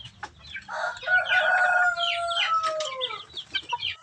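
A four-month-old fighting rooster crows once, a long strained call drawn out over a couple of seconds, followed by a few short clucks nearby.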